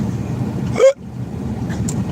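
A single short hiccup breaks out once, fairly close and loud, over a steady low rumble of a car interior as it drives.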